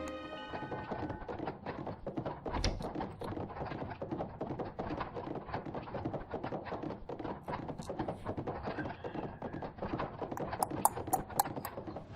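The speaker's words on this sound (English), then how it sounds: "The mechanical horses raced past Piccadilly Circus and Pall Mall faster than a team of thoroughbreds" Mechanical horses from the video game 80 Days gallop past as a steady, rapid clip-clop of hoofbeats, dense and continuous throughout at a moderate level, with faint clanking mixed in.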